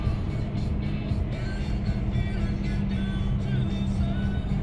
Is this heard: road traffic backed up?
yes